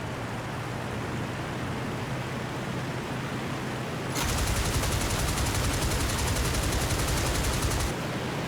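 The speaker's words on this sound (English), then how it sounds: "Someone else is shooting at me." Machine gun fire in the IL-2 Great Battles flight combat game: a sustained, dense burst of rapid shots erupts over steady engine drone midway, lasting several seconds before cutting off.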